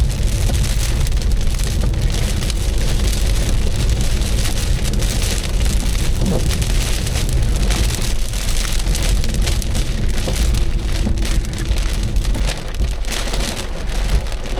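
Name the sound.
heavy rain storm on the road, heard from a car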